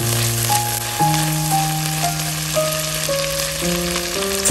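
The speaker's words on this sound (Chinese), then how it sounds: "这时候加1勺黄豆酱，转小火炒出酱香味。" Pork belly stir-frying with a spoonful of soybean paste in hot oil over low heat, a steady close sizzle and crackle running the whole time with no talk. Faint steady tones sit underneath.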